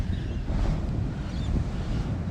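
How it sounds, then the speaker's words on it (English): Sea surf at Zenith Beach at sunrise, a steady broad wash of waves mixed with wind buffeting the microphone, continuous and fairly loud with no talking. "Listen to the sea."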